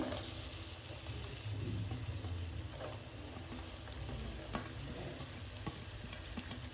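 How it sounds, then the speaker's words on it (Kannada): Chopped onions with spices sauté in a pan, giving a soft, steady sizzle with occasional light stirring clicks, quiet and close throughout. "ಈಗ ನಾನು ಏನು ಸಣ್ಣದಾಗಿ ಈರುಳ್ಳಿ ಹೆಚ್ಚಿಟ್ಕೊಂಡಿದ್ದೆ ಅದನ್ನು ಹಾಕೋತಾ ಇದ್ದೀನಿ"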